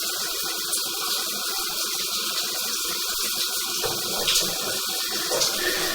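A sewer inspection camera moving submerged through water in a sagging residential sewer pipe, giving a steady, close, muffled wash of rushing, gurgling water throughout.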